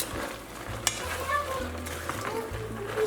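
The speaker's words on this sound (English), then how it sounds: "now it's time for me to go in and give this a mix" Lamb fries in caramelised sugar in a pot as a spoon stirs it, giving a soft continuous sizzle with scraping strokes and one sharp clink partway through, moderately close and quiet.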